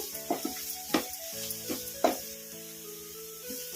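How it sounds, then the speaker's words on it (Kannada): Cabbage and other vegetables frying on a medium flame for spicy masala bread toast, a soft sizzle under a few sharp spatula scrapes and clinks against the pan, close and fairly quiet. "ಇವೆಲ್ಲವೂ ಮೀಡಿಯಂ ಫ್ಲೇಮಲ್ಲೇ ಫ್ರೈ ಮಾಡ್ಕೋಬೇಕು, ಹೈ ಫ್ಲೇಮಲ್ಲಿ ಇಟ್ಕೋಬಾರ್ದು"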